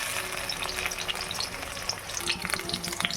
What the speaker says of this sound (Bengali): তো তেল গরম হয়ে গেছে, চলুন আমি আগে মোটা করে কাটা পেঁয়াজগুলো একটু ভেজে তুলে নিই।